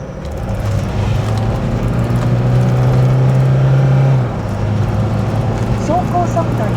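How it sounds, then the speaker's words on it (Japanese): A new-model Anseye camper van at full throttle merging onto a highway: a steady, heavy engine drone with road rumble that swells and then eases, with a voice speaking over it. "その時スムーズに合流できるかフル加速してみてタイムを計測してみます"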